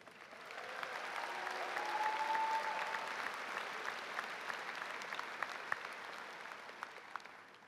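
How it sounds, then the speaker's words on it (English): An audience at a business school pre-commencement ceremony claps for a few seconds, swelling and then thinning into scattered claps, with faint crowd murmur beneath. "Let's give a round of applause for Debbie Pike."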